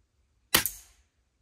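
A single sharp shot from a Snowpeak SP500 4.5 mm air rifle fired in woodland, a close crisp crack with a brief second snap and a short fading tail, otherwise quiet.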